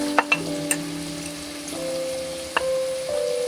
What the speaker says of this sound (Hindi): अब वेजिटेबल्स डालने के बाद हम इसको ज़्यादा देर नहीं, थोड़ी सी देर पकाएंगे ताकि वेजिटेबल्स जो है वो क्रिस्पी रहें।